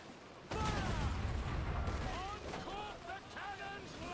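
Ship cannons in Assassin's Creed Black Flag open fire with a sharp loud blast followed by sustained rumbling volleys, with shouted voices over the din.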